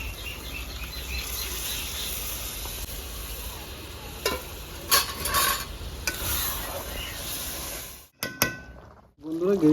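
A spoon scrapes and stirs yogurt into masala in a pan for a giant freshwater prawn bhuna, over a steady sizzle. A few sharp metallic clinks and scrapes stand out near the end.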